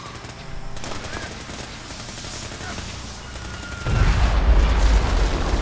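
Gunfire in Fallout 4 during a fight with a synth enemy, a dense rattling stream of shots that swells into a heavier, louder burst near the end, with a brief voice under the noise.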